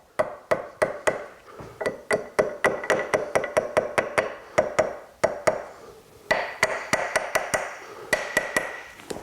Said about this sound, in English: Actually, hammer works better.